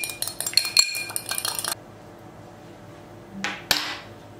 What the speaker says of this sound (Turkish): Çırpıyorum.